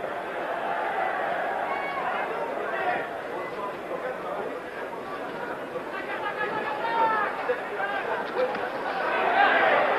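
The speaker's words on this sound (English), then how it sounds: "All of the excitement so far is lodged in this extraordinary French crowd and their anticipation and their hope" Excited French crowd at a Monzon–Bouttier boxing match, a dense, steady roar of chatter and cheering that swells toward the end, with no clear single voice standing out.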